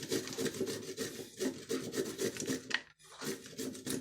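Washed zucchini is grated with the skin on, making rhythmic rasping strokes at close range, each back-and-forth pass a scratchy rub with a brief pause near the end before grating resumes.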